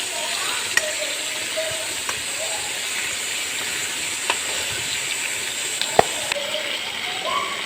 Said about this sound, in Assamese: মাছ ফ্ৰাই কৰা হৈ গ'ল।